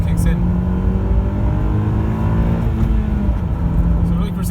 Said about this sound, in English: second gear, if we floor it, just to see, around 6 or so the cam change kicks in